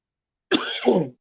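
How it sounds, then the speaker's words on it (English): A single short, rough throat-clearing cough, close and fairly loud, in otherwise silence. "I felt the cough coming."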